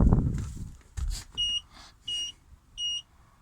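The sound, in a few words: vehicle warning beeping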